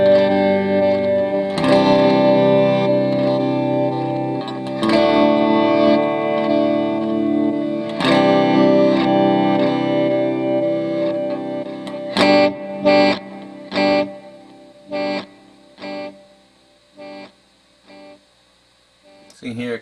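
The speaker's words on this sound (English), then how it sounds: "the delay plays a bit of what you play in reverse and then plays a little bit forward" A Joyo D-SEED delay pedal in reverse mode turns guitar notes into swelling backward echoes that then repeat forward, loud sustained chords ringing with chorus-like shimmer before giving way to short, choppy repeated bursts near the end.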